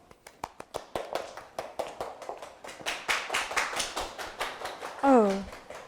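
A lecture audience at a Saturday science talk on cancer organoids claps rhythmically, one steady round that swells toward the middle, before a voice briefly speaks near the end.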